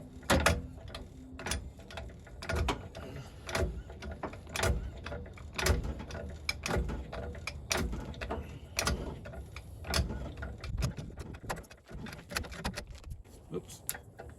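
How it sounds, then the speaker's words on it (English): A Peterbilt 362 cabover cab is jacked up with an extended jack handle, making irregular clanks and metallic ratcheting clicks at close range, with some faint background sound between strokes. "I've extended it out to give myself a little more leverage, and you just start jacking"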